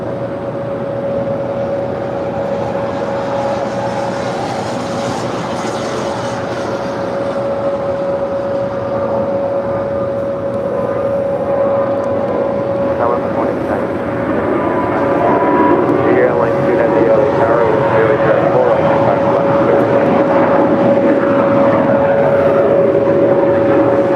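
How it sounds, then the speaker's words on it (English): A Volaris Airbus A320neo jet, flight 916 in from Guadalajara, taxiing at LAX gives a steady engine whine and broad rumble that grows slightly louder over time, with intermittent voices over it. "that is Volaris flight 916 coming in from Guadalajara. It's an A320neo."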